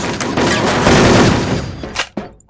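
Sustained loud gunfire from the online shooter Wolfteam, a dense rattling fusillade close up that breaks into a few sharp separate shots and booms toward the end.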